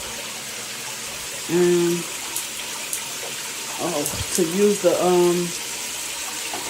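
Water streams from a magnetic handheld rain shower head, a steady hiss running under a person's talking and brief exclamations.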